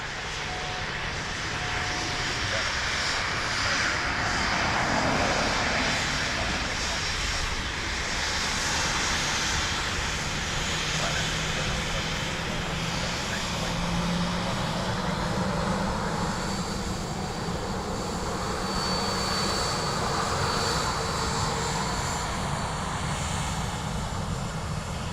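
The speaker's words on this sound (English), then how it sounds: "Emirates gone out behind me." An Emirates airliner departing Dublin Airport gives a sustained, fairly distant broadband engine roar that stays steady throughout, with no speech.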